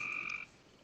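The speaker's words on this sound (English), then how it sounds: "But are those frogs from your end, Mox?" Frogs croak outside in a swamp, with one brief, fairly faint croak that fades after half a second into quiet background.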